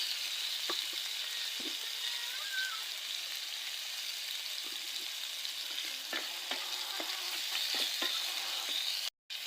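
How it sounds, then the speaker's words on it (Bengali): Sliced potato frying in hot oil in a pan with salt, giving a steady, close sizzle and hiss throughout, broken by occasional soft stirring clicks; nobody speaks. "আর সাথে একটা আলুও দিয়ে দিচ্ছি। এগুলা কিছুক্ষণ ভালো করে ভেজে নিই।"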